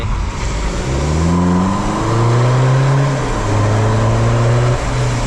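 A diesel BMW F32 with a Euro Arts sport exhaust revs up and down with a deep, sporty exhaust drone, loud and close, rising in pitch in several sweeps.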